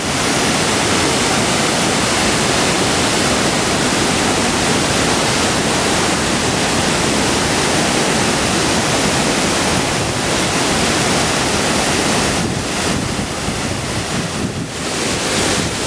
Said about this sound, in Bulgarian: Страхотен водопад край пътя.